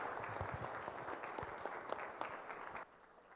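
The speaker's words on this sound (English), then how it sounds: "Let's give a round of applause for that one." Audience at a conference talk applauds steadily for about three seconds, a dense wash of many clapping hands that cuts off abruptly near the end.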